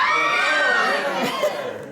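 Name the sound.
audience screaming "aaagh" together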